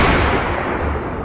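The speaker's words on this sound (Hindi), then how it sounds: "मैंने डरते हुए अपनी बंदूक उठाई और गोली चला दी।" A single loud, dense gunshot-like blast fills the moment, booming and broadband, then decays without any voices.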